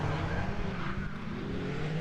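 Rallycross race cars, a Mini and a 1400cc G40-shape VW Polo, racing at Croft, a steady loud engine drone with a slight pitch sweep, no voices.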